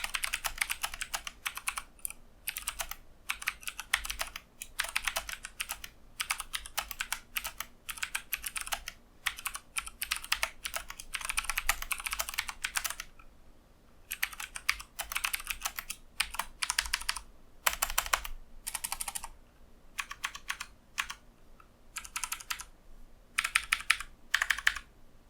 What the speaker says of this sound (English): This is going to be the typing test for the Corsair Luxe K70 keyboard.